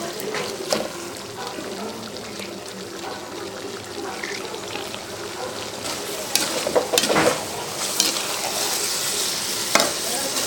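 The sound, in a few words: tomatoes being sautéed in a pan for Chettinad mutton liver pepper fry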